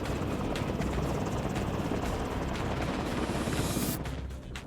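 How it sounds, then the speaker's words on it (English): An AH-1 Cobra four-bladed military attack helicopter, operated by US Marines, drones loudly and steadily with a dense rotor thrum and no pauses, fading slightly near the end. "this sleek, four-bladed chopper is the cutting edge of military helicopter technology"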